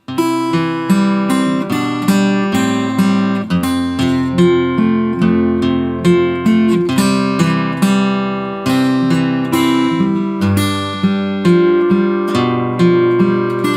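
A hymn, Nearer, My God, to Thee, played on a keyboard with the eighth-note accompaniment as loud as the melody, so the tune gets buried; steady chords fill the whole stretch with no talking.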